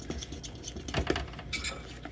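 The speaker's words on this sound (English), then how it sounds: "So I use a whisk to try to mix it all" A whisk is stirred through a thin glue mixture in a bowl, producing quick light clinks and taps against the bowl in an uneven rhythm, close and fairly soft.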